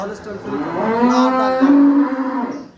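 A single long, loud moo from a Holstein Friesian dairy cow rises and holds, close by, then fades out.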